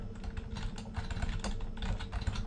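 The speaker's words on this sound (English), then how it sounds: "wow, I'm having a hard time typing today" Rapid, continuous clatter of keys on a computer keyboard while code is entered, dense and close over steady background noise, with no voices.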